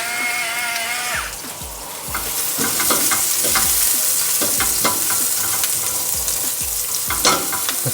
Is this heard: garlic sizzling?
yes